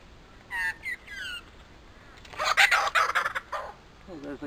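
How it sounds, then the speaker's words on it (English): A kookaburra calls nearby in short bursts of raucous, chattering cackles, first a brief run and then a louder, rising laughing sequence, set against quiet outdoor background. "Oh, there's a kookaburra."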